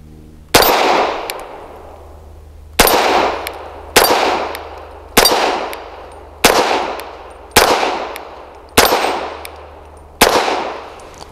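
Grand Power LP9M 9mm pistol firing PPU brass-cased ammunition, eight loud, sharp shots at fairly even intervals of about one to two seconds, each with a ringing metallic clang on a target and a short decaying echo, with no talking.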